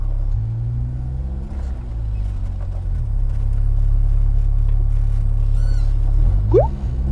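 A Honda Civic EK coupe with a K24 engine rumbles loud and close, its deep steady engine note briefly swelling in pitch early on before settling into a sustained drone.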